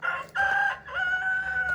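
Rooster on a farm crowing once up close, a loud strained call broken into a short first syllable and a longer drawn-out tail, with no talk over it.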